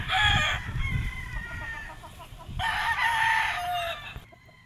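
A Kelso gamefowl rooster with white legs crows on a Batangas game farm, two loud, close cock-a-doodle-doo calls with clucking between them and some farm background noise.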